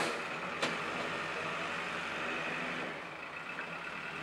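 A large loader moves its bucket while working dirt near a septic tank job, a steady engine rumble and hiss continuing throughout with a brief sharp beep near the start, fairly distant and with no talk.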